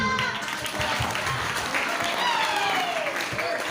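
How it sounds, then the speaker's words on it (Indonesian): Seminar audience at an Indonesian Islamic study closing applauding, dense sustained clapping with voices mixed in beneath it. "Tepuk tangan dulu ini."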